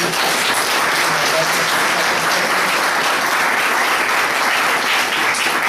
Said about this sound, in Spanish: Les pido un fuerte aplauso, por favor, para todos los participantes.